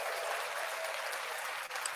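A crowd's applause plays as a sound effect, with steady, dense clapping held at an even level throughout, moderately loud and with no talking over it.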